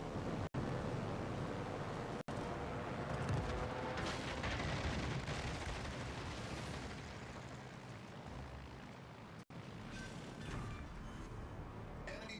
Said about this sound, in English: Enemy battleship sunk.